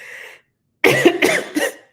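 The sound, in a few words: cough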